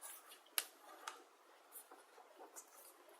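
Scissors cutting a strip of sticker border in a quiet room: one crisp snip stands out, followed by a few faint clicks and rustles of paper.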